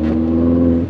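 A Mini Cooper S engine roars with a steady, rising rev, loud and close, driving in snow, cutting off near the end.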